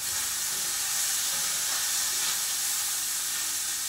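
Bacon sizzling and crackling in a hot pan on a stovetop, a steady close-up hiss of frying fat with no voices.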